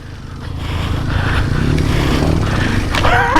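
A companion's motorcycle rides over rough ground on a narrow trail, with a steady loud engine drone and scraping, bumping rumble building over a few seconds, close by.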